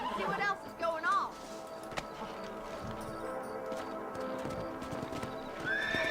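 Horses clip-clop and whinny in the Red Dead Redemption video game, a loud neigh near the start over steady hoofbeats, with game music and ambience running underneath.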